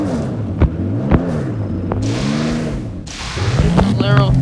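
A 2000 TVR Cerbera Speed 12 in the racing game Driving Empire revs continuously, its engine pitch rising and falling in waves, with a few sharp clicks and brief louder bursts.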